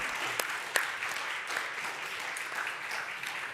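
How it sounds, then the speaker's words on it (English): Audience applause at a live trading tournament event, a dense wash of clapping hands held steady for several seconds with a few sharper claps standing out, moderately close and filling the room. "Oh, we got a clap."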